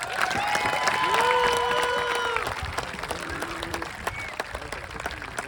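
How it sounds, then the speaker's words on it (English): A school assembly audience claps and cheers for a coach, a broad crowd noise with whistle-like tones and shouts rising early on, then thinning into scattered clapping. "Now, Coach Hallock, let's give him another round of applause."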